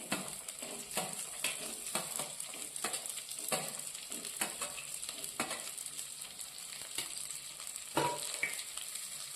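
Green chillies and shallots sauté in hot oil for a tuna curry, a continuous close sizzle broken by repeated scraping stirs of a utensil against the pan.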